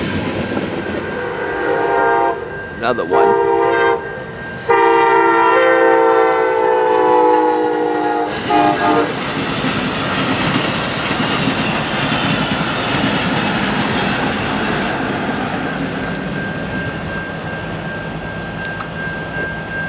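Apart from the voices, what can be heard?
passing train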